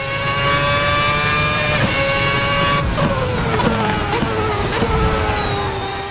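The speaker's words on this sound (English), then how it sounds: "those sounds are hypnotic. High-revving V8 engine." The RSS 2010 V8 race car in a sim racing game screams at high revs. The loud, continuous engine note climbs steadily, then drops sharply through a quick shift midway, with no voices over it.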